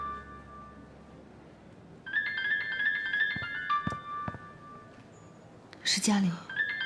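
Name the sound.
phone ringtone of an incoming call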